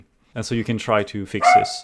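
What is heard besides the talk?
dog barking in the background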